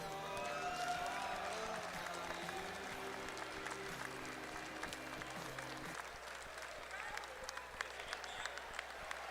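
An audience applauds at an evening event, with sustained dense clapping throughout, steady and fairly distant, over a low sustained musical tone that stops partway while the clapping carries on.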